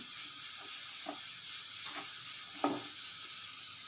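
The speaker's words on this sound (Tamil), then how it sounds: "இந்த எண்ணெய் சூடாயிட்டு இதில் வெண்டைக்காய் வந்து ஃப்ரை பண்ணிக்கலாம்" Okra sits in hot oil in a pan, giving a constant bright sizzle and hiss, with a few quick utensil taps and scrapes over the bed of frying, up close and alone.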